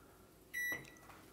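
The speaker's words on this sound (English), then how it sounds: "it's the convection oven is going. It's preheating." A Toshiba microwave convection oven starting its preheat gives a short electronic beep, then a brief hum and soft click, quiet and close, with no talking.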